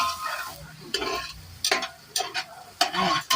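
Onions frying in a pan are stirred as tomatoes go in for a pasta sauce: a steady sizzle broken by several loud, close scraping bursts from the spoon, with no voices.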